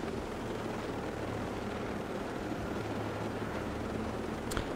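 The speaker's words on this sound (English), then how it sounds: "Could take the boat, but I'll take the helicopter instead." A helicopter in the video game Ghost Recon Breakpoint drones steadily, its thick, constant rotor and engine rumble filling the whole stretch without any talk.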